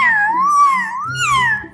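A child imitates a cat, drawing out a long, wavering meow, loud and close, then rising into a second shorter meow.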